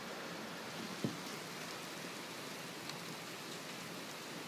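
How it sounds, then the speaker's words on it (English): Small pea-sized hail mixed with rain falls steadily during a winter thunderstorm, a dense hiss of drops on surfaces with a faint thump near the start and one brief tick later. "We're actually getting hail mixed with the rain."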